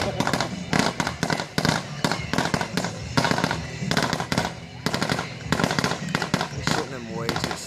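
Fireworks being set off outdoors, a series of loud close crackling bursts in irregular clusters with brief gaps between them, with people talking over the noise.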